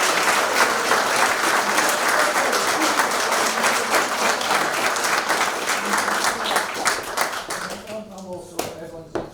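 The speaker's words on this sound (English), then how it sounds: "a big round of applause for a beautiful service" Sustained round of applause and clapping from wedding guests after a ceremony at The Three Kings, dense and steady throughout before thinning out near the end as a voice begins speaking.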